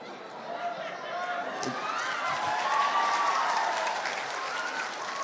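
Audience clapping during a sermon at a gathering, a spread of scattered claps rising gently in a large room while a voice carries on over it.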